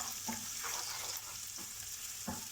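Garlic and onions fry in a pan over medium heat, a steady close sizzle broken by a few soft stirring scrapes.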